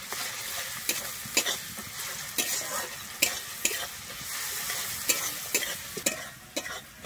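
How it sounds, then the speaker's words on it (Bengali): Pre-ground garlic paste fries in a pan, giving a close, steady sizzle punctuated by sharp, regular scraping taps of a spatula stirring it, with no voices. "আমি রসুনটা দিয়ে কিন্তু ভেজে নেব"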